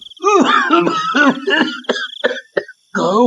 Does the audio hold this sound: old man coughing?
yes